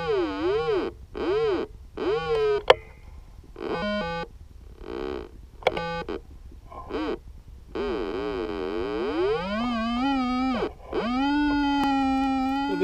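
Warbling electronic tones from a Whites V3i metal detector in mixed mode as it passes over a buried target, rising and falling in short repeated bursts and then holding into longer, steadier wavering pitches, loud and close with no talking.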